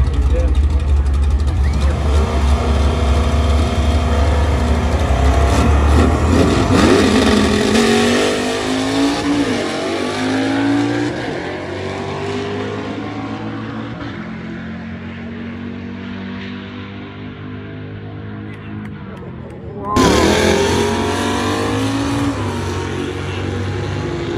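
A 1979 Ford Mustang at a high-altitude drag strip roars loud and close, revving and accelerating away with a sweeping engine tone, then another burst of engine noise cuts in near the end, with an announcer talking over it.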